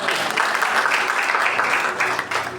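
A church congregation applauds and cheers for Jesus, a steady wash of clapping and crowd noise that holds at an even level without a break.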